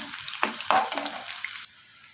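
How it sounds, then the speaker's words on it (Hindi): One medium-sized onion sautéing in a pan, a close sizzle broken by a few short bursts of stirring before the frying settles and drops away near the end. "इनको अच्छे से सौते करते हैं।"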